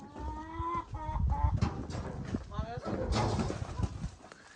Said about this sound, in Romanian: Găinușile au răspuns primele.